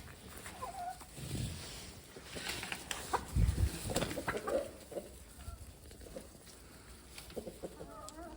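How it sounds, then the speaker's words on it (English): Backyard chickens cluck softly in short, scattered calls, with broadband rustling and farm noise around them and occasional lambs bleating in the distance. "Those poo chickens can't wait to get out."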